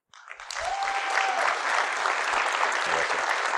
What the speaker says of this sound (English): I got that kind of round of applause or something